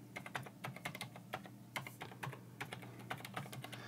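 Login credentials are typed on a computer keyboard: rapid, crisp key clicks in uneven bursts with brief pauses, close and fairly quiet over a faint low hum.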